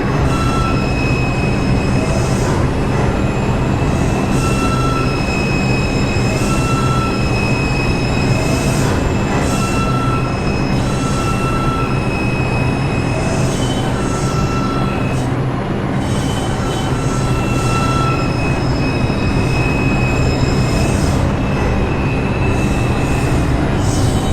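A Bronx-bound 1 subway train rolls steadily along the track, its continuous rumble joined by repeated high wheel squeals and tonal whines, loud and close throughout.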